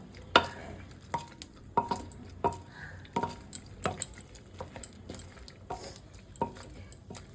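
Boiled vegetables for pav bhaji being mashed in a pot with a metal masher, a series of close, regular knocks and scrapes against the pot with soft squelching between them and no talk.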